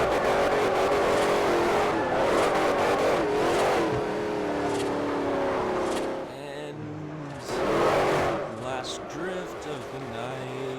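A fully built GT500 drifts in Forza Horizon, its engine roaring steadily and loud with tyre squeal, briefly easing off before surging again, while someone talks over it.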